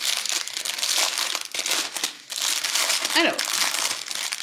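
Plastic packaging crinkles and crackles loudly and continuously as it is unwrapped up close, while a person speaks briefly over it.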